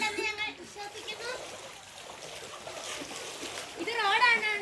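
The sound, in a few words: floodwater flowing over a road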